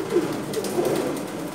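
A pigeon in a pigeon loft at a large Dhaka pigeon market gives a few soft, low coos close by against a faint background hum.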